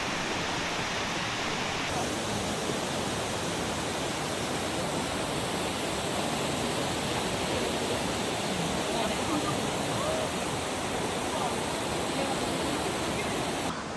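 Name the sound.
waterfall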